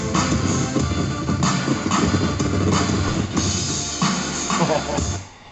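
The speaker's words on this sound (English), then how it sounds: "It's a WrestleMania theme song you can hear." WrestleMania theme song playing loudly and continuously, a dense full-band music track that fades at the end, with no talk over it.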